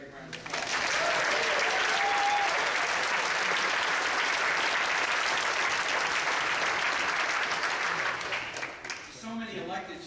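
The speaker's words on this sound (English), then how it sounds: "Give Ray a big round of applause." Sustained applause from a crowd at a state Democratic party convention, a dense roar of clapping lasting about eight seconds before fading as speech resumes.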